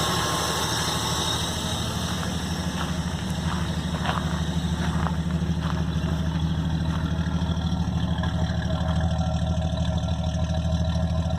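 A 1974 Dodge Dart four-door project car idles smoothly and steadily with the fast idle cam dropped, giving a deep, even exhaust rumble up close with no voices over it.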